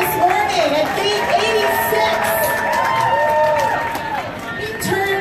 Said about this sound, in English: Give yourselves a huge round of applause for being here this morning at Gate